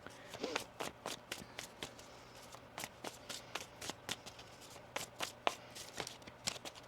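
Tarot cards riffle and snap in a steady run of sharp, close bursts, roughly a dozen quick shuffles with brief pauses between them, with no talking.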